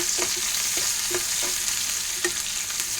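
Onions and green chillies frying in hot oil with small fish, a steady sizzle broken by several soft stirring scrapes at an uneven rhythm, close by with no talk.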